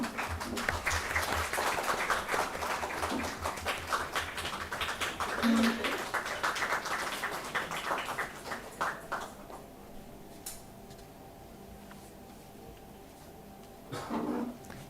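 Audience clapping at a career guidance event fills the first half, then tapers into scattered claps and near quiet, with a brief burst of noise at the close.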